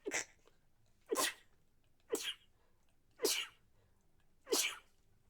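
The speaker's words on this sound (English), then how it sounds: "I'm gonna sneeze." Five sharp sneezes burst out at roughly even one-second intervals, close and fairly quiet, each a quick breathy explosion with near silence between.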